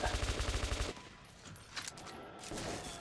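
Gunfire in the first-person shooter Metro 2033: a rapid automatic burst of shots in a steady rattling rhythm for about the first second, then quieter game ambience and scattered noises.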